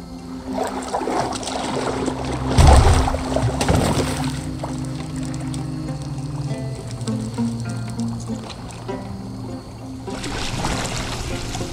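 A boat is rowed through water in Assassin's Creed Valhalla, with oar splashes and trickling water over a low, steady musical hum. A louder splash comes early and the water movement then fades into softer churning.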